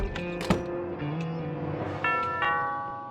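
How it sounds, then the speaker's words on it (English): Doorbell chime in the Thimbleweed Park adventure game: a couple of bright ringing tones with sustained harmonic decay, set against a soft game music backdrop, with no talking. "That sounds like the doorbell."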